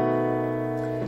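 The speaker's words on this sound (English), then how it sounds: "Then we go to B dominant 7." A single B dominant 7 chord rings out on guitar, sustained and steady at moderate volume for about a second, played while teaching an alternative rock song.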